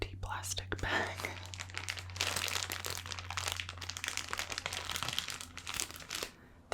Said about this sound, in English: An empty plastic bag.